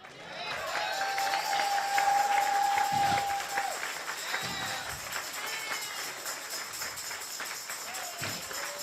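A church congregation claps in thanks for a bishop, a loud burst that swells early and then settles into a lighter, scattered patter, with a sustained whistle or tone and some voices mixed in.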